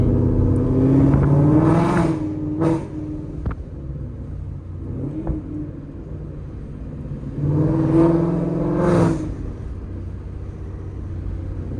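A 5.0 Mustang GT engine with a loud exhaust roars through two hard revs several seconds apart, idling with a low rumble in between.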